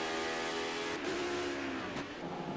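Simulated race cars in the Le Mans esports racing video game drone past with a high revving engine whine, the pitch rising and falling through gear shifts at a steady, loud level.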